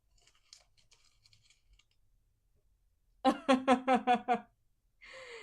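A person yawns aloud in a quavering, stuttering voice that breaks into several pulses, preceded by faint rustling and followed by a soft breath.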